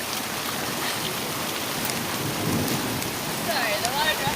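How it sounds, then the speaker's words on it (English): Steady rain falls during a storm in the Las Vegas desert, a close, even hiss of drops on surfaces with a low rumble rising midway and faint voices near the end. "Yes, rain harder."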